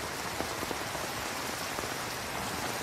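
Steady rain pattering on surfaces in an outdoor scene from an NCIS episode, a dense even hiss of drops throughout, fairly loud and with no voices.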